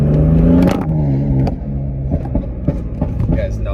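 A tuned BMW M4 with a stage 2 tune accelerates hard, its engine rising in a loud, close roar, then settling into crackles and pops with the tires spinning, while someone talks over it.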